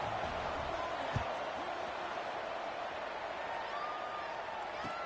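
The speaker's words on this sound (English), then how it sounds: "this crowd is buzzing after that last score" A stadium crowd in a PS5 college football video game keeps up a steady, dense roar late in a one-score fourth quarter around a kickoff. The noise runs unbroken and fairly loud throughout, with no distinct shouts standing out.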